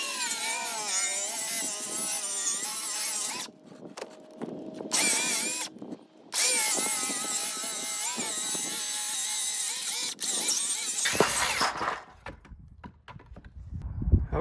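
A power drill drives screws into the transom wood of a Cherokee Jet Jon boat, sounding as several loud whirring bursts of a few seconds each with brief gaps between them, then clattering handling noise near the end.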